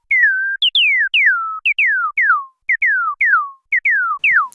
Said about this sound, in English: this is where I discover the TD-3 can also sound like a bird